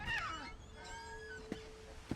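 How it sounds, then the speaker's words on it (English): A cat meowing in a video game, a short drawn-out meow followed by a few soft game sounds, quiet and under faint background noise. "I heard meowing."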